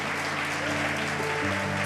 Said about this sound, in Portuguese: Você vai aplaudir? Aplaude.